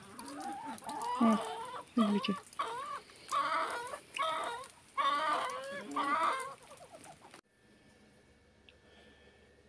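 Chickens cluck and squawk in repeated bursts close by, one short exclamation among them, before the sound drops to near silence, on a rainy day.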